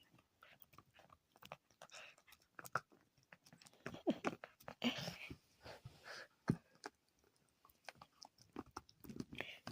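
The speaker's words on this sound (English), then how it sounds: "She's laying here enjoying the sun, chewing on her bone." A dog lying in the sun chews on a bone, giving close, irregular crunches, bites and gnawing sounds, some sharp and some soft, with quiet pauses between.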